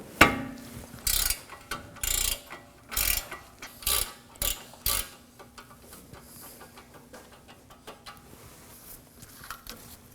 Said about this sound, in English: Now we can remove the 19mm nut, and for that I'm going to be using a 19mm ratcheting wrench.